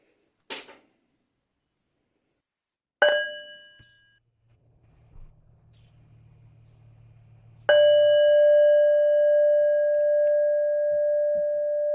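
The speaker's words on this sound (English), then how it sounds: "I'll just invite one quick bell to begin" A meditation bell in a quiet room gives a soft tap, then a short ringing strike, then one full resonant strike that sustains and slowly fades, with low faint rumble between the strikes.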